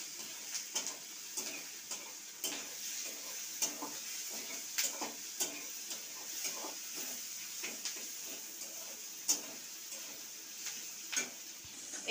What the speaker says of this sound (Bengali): পেঁয়াজ কুচি দিয়ে দিলাম, আর এই যে রসুন দিয়ে এগুলো ভালো করে লাল লাল করে ভেজে নিতে হবে প্রথমে